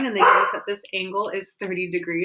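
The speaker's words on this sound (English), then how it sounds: "I'm sorry if you can hear Rowdy barking." A pet dog named Rowdy barks in a few short yips and woofs indoors while a man explains a physics problem; the barking sits under and between his steady talk.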